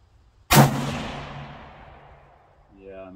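A single loud rifle gunshot fitted with a Spearhead barrel tuner cracks sharply nearby, then rings and decays for about two seconds before a voice starts talking at the end.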